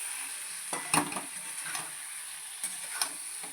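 Spices sautéing in a pan for a fish and cauliflower curry with katla pieces, giving a soft steady sizzle broken by a few scraping stirs of a spatula close by, with no talking.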